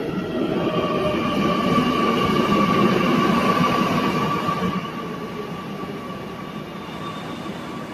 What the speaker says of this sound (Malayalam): അപ്പോൾ നമുക്ക് പോകേണ്ട മെട്രോ അവിടെ നിന്നാണ് വരുന്നത്